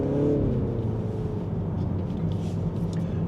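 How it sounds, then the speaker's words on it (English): A Mini Countryman John Cooper Works All 4 drives along with a steady engine and exhaust drone and road noise throughout. A few faint crackles sit under the hum, heard from inside the car. "So you hear all these cracks and popples."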